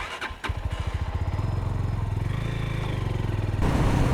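A motorcycle runs close by with a steady, rapidly pulsing engine rumble that rises slightly in pitch as it rides on, picked up by a DJI Action 4 microphone.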